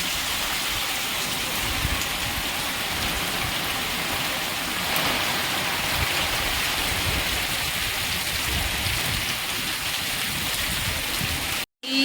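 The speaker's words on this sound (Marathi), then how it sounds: "हा पाऊस इतका पडतोय धोधो" Heavy rain pours down continuously, a dense steady roar of drops that cuts off abruptly near the end.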